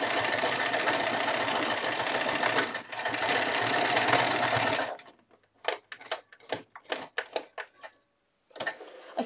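A serger runs fast through t-shirt fabric in a continuous loud whirring burst for about five seconds, then stops and starts in short rapid bursts with pauses between.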